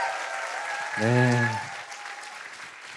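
An audience at a Korean business event applauds in a short burst of clapping and cheering under a speaker's voice, with talk continuing around it.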